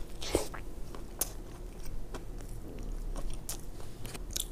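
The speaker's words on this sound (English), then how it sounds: "I'm gonna take a bite out of each one." Close biting and chewing of a fast-food chicken sandwich, Wendy's or Chick-fil-A, a crisp crunch at the first bite followed by soft, wet, irregular mastication sounds near the mic.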